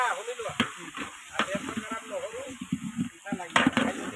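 Ginger-garlic paste frying in a large pot with onions for a ten-kilogram chicken pulao, a steady sizzle broken by repeated scraping stirs, close and loud, with a voice speaking over it.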